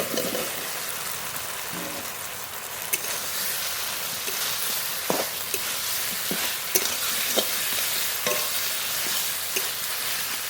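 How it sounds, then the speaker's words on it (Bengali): Fried potatoes are stirred into masala sizzling in oil, a steady close frying hiss with intermittent spoon scrapes and small clinks throughout, no talk. "মশলা থেকে তেলও ছেড়ে দিয়েছে ভেজে রাখা আলু দিয়ে দেবো"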